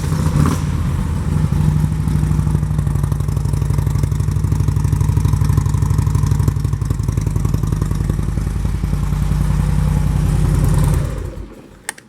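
A 2008 Harley-Davidson Ultra Classic with a V-twin engine and aftermarket Vance & Hines exhaust pipes idles steadily and loudly with a deep, lumpy rumble, then cuts off near the end.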